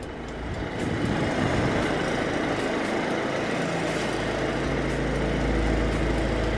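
A Daily van engine running while it parks in a garage: a continuous steady mechanical drone that rises slightly in loudness after the first second, with a low rumble strengthening toward the end.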